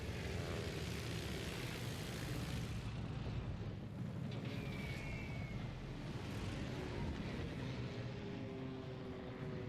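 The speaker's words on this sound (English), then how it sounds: "There he is, just flying in with his torpedo bombers" Torpedo bomber aircraft fly in during a naval battle in World of Warships Legends, a steady low propeller drone over a broad rumbling background with a faint rising whine, sustained and even with no talk.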